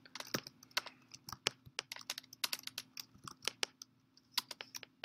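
Typing on a computer keyboard, irregular bursts of close, crisp key clicks with short pauses, over a faint steady hum.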